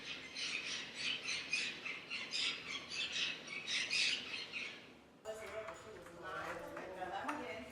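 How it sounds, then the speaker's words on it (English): Birds squawking and chirping outside, a loud run of repeated harsh calls for about five seconds, then fainter mixed chirps with someone talking over them. "These birds! Yo, there's birds!"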